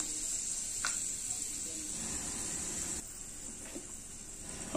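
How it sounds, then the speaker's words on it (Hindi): Onions and fenugreek seeds hissing in hot oil for a fish curry, a steady bright sizzle with a couple of soft clinks and stirring scrapes, close and continuous without talk. "प्याज डाल रहे हैं।"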